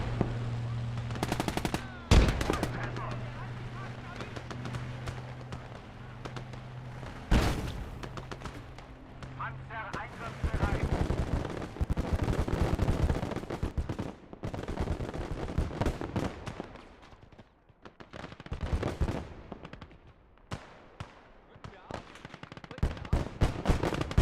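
Gunfire in the WARNO / Gates of Hell multiplayer game, dense bursts of machine-gun fire and sharp single shots rattling almost continuously, loud and close, with a voice talking over it at times.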